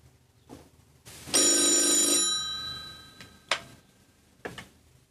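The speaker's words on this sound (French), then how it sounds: "Si le téléphone sonne." An old telephone bell rings once in a loud, sustained metallic burst of about a second in a 1981 French crime drama scene, followed by a few sharp clicks and knocks.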